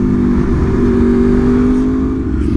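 A motorcycle engine holds a loud, steady rumbling idle from a throaty exhaust, sustained throughout with no speech.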